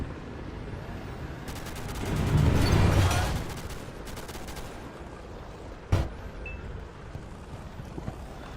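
A burst of rapid video game gunfire in a multicrew tank combat game swells in the distance over a steady rushing background, followed by a single sharp nearby shot.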